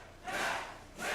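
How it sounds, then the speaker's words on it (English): Crowd at a wrestling match yelling for a submission tap, two loud swelling bursts of shouting close together in a short span. "As the crowd, you can hear them yelling for the tap"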